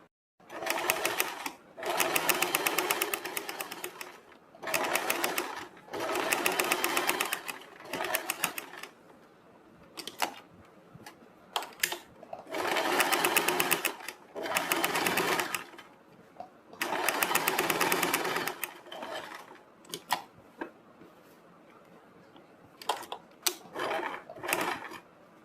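A sewing machine stitches a seam along a dress neckline in repeated bursts of fast, loud whirring, with short quiet gaps and light handling noises between runs.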